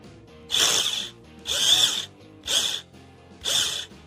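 A cordless screwdriver's brake is tested with the trigger released: four short whirring bursts of the motor, each about half a second, evenly spaced with brief pauses, close and fairly quiet.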